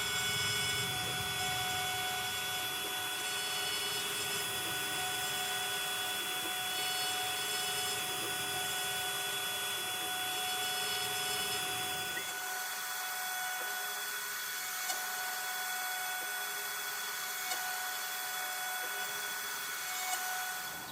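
A CNC cutter machines a part for a WW2 Tiger 1 tank model, producing a continuous loud whining, hissing drone with steady tonal hums that drops in low rumble partway through but keeps running, close and without voices.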